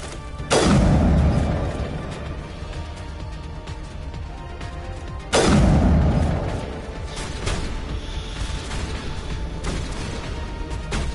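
Two heavy blasts a few seconds apart in the Mass Effect video game, each a loud sudden boom decaying into rumble, with scattered gunfire and mechanical clatter between them.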